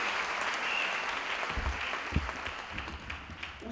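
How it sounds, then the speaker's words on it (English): A round of applause from a summit audience welcoming people coming up to testify, steady dense clapping with a few low thumps and faint background voices. "Please give them a round of applause as they come"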